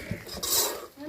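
Mango pulihora rice being mixed in a metal pot, a brief clatter of a spoon scraping and knocking against the pot's side, close and moderately loud.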